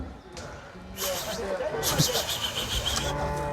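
Cattle low at a cattle market in Melur, among bulls and cows, with deep moos rising over a busy crowd while someone talks close by.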